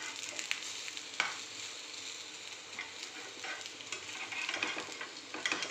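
Thepla flatbread for a fasting recipe roasting on a hot pan, giving a steady soft sizzle with faint scraping and ticking touches throughout, fairly quiet and with no voices.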